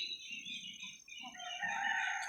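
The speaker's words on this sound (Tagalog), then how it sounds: "Yan pong sunoy ko. Yung rooster." A native rooster crows in one long drawn-out call at moderate distance, with other fowl clucking softly in the background.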